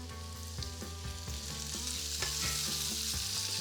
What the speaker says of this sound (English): I'm gonna add my peppers, and I'm using just a classic green bell pepper for this, some hot peppers, some fresh hot chili peppers.